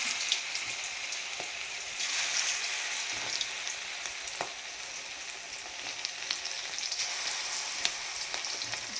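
Chicken pakoda pieces fry in hot oil with a steady, crackling sizzle that runs the whole time. Sharper pops stand out here and there, and no one speaks.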